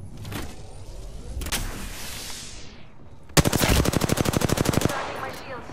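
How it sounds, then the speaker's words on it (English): Enemy gunfire in Apex Legends, a few scattered shots then a loud rapid burst of automatic fire lasting over a second, close and dominant. "shooting at me"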